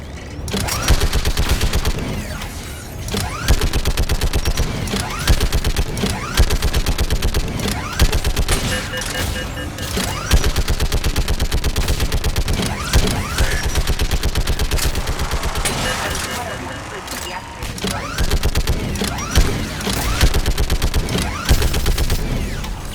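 Geth turret gunfire in the video game Mass Effect 3, heard as continuous, loud rapid-fire bursts with explosions, sustained throughout the battle with almost no pauses.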